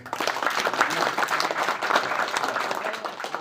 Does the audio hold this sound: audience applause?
yes